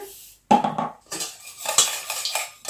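A utensil beating two eggs with a pinch of salt in a bowl, with close, clattering, uneven clinks and scrapes against the bowl after a brief pause, fast and irregular.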